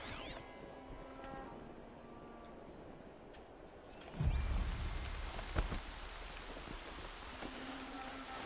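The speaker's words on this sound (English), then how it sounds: "More rain." Steady rain falls as an even hiss in Horizon Zero Dawn, joined partway through by a low rumble and a few louder splashing impacts.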